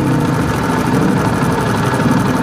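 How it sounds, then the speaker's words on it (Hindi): A Honda CD70 motorcycle engine running smoothly after its idle speed is adjusted, a loud, close, steady mechanical hum with no one speaking. "यहाँ पे हमारी बाइक की रेस तेज़ हो गई है, इंजन हमारा स्मूथ चल रहा है यहाँ"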